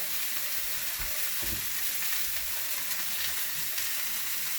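Store-bought vegetable oil sizzles steadily in a pan on turned-down heat, a continuous close, even hiss with faint crackles and no talking.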